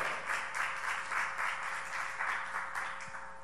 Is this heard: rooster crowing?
no